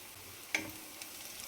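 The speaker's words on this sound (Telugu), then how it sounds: "అల్లం వెల్లిపాయ పేస్ట్ వేసి పచ్చివాసన పోయే వరకు ఫ్రై చేసుకొని" Ginger garlic paste frying in a pan for a chintachiguru chicken curry, a faint steady sizzle with a single sharp scrape of stirring partway through.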